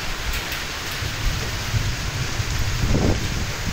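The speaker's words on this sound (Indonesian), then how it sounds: "Intinya itu hujan, badai, petir, campur jadi satu." Heavy rain pours steadily during a thunderstorm at a remote seaside island cabin, with a low rumble of thunder rolling through near the end over the constant downpour.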